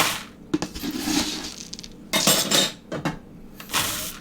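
Cups of old-fashioned oats are scooped and poured into a large bowl, with dry rustling pours, crunchy scraping, and sharp clinks of a measuring cup against the bowl in irregular bursts.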